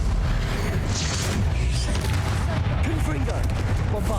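Confringo and Bombarda spell blasts go off in the Hogwarts Legacy video game as heavy booming bursts with rumbling impacts and crackling debris, dense and loud, while a voice talks over the action.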